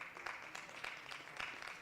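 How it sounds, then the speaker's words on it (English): Crowd applause at a baseball game, a brief, fairly faint patter of clapping heard from a distance and spread evenly across the moment. "Applause coming from the crowd here."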